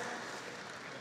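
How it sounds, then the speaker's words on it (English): A commencement audience applauds, producing a dense, steady wash of clapping that holds at an even level throughout. "That's it. Go ahead and applaud."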